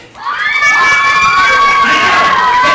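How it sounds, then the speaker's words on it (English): A crowd of children screams and cheers loudly at a county fair magic show, high-pitched shrieks swelling quickly after a brief quiet start and sustaining for a couple of seconds. "You guys scream, clap, go wild."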